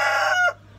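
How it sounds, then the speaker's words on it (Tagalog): A rooster in a chicken coop gives the tail end of a crow, a single loud, harmonic call that cuts off abruptly. "May mga manok-manok nang nandito, diba?"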